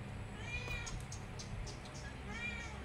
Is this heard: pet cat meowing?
yes